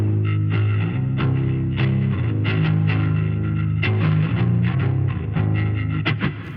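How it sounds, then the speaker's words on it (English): Electric guitar run through Pitchfork and Special Cranker distortion pedals in a looping setup, playing dense sustained distorted chords and notes with repeated picked attacks, loud and steady throughout. "and then I can just add the special cranker."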